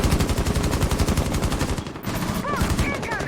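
Rapid automatic gunfire from a competitive Rainbow Six Siege scrim, sustained bursts with a brief pause near the middle, then more firing with small ringing casing or ricochet tones over continuous game ambience.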